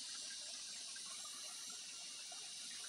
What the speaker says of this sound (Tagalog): Umagos yung tubig.